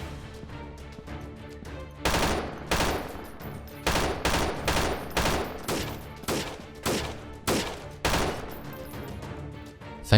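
Gunfire in the video game Freeman Guerrilla Warfare: sharp, loud shots fired in a steady rhythm of about a dozen evenly spaced bursts, each with a short echoing tail, heard close with no voices.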